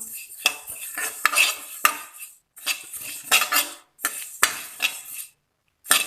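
Spices for pickle frying in a pan while a metal spoon stirs and scrapes, bursts of clinking and scraping with a soft sizzle between strokes and brief pauses.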